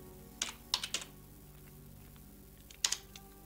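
Close, quiet keystrokes on a computer keyboard come in two short bursts, a few quick taps near the start and another small cluster near the end, over a faint steady hum.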